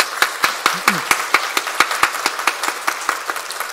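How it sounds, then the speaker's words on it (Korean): Sharp separate handclaps ring out in a church during a Sunday morning service as the congregation congratulates a newly married couple, a sparse uneven patter of claps that fades toward the end, with a brief murmur between them. "우리 축하한다고 박수 한번 하면 좋겠습니다."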